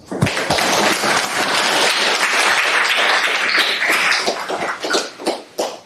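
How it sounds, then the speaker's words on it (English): Sustained audience applause for invited panel speakers at an academic panel discussion, a dense wash of many hands clapping at steady loudness for several seconds, thinning into scattered claps toward the end. "help me out giving another generous round of applause for the invited speakers"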